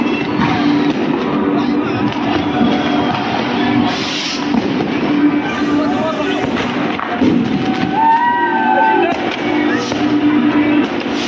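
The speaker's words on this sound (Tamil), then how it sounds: "வெடி வெடி வெடி வெடி வெடி வெடி." Fireworks and firecrackers bursting at New Year in Nuremberg, a dense, continuous roar of crackling blasts with a crowd and voices mixed in throughout.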